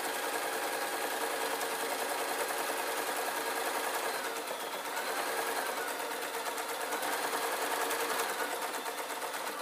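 Sewing machine stitching a waistcoat, a steady rapid mechanical whir running continuously at close range, with a slight dip in pace midway.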